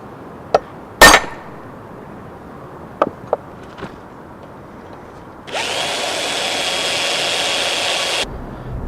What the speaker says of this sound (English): drill 3 holes for the rivets that will hold the handle on